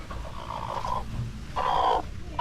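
Brooding mother hen sitting on eggs clucks in two soft bursts with a pause between, close by, over a low rumble of background noise.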